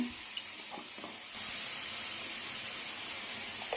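Vegetables with turmeric sauté in a pan as a soft, steady sizzle that starts partway through, faint and close, with a few light clinks before it.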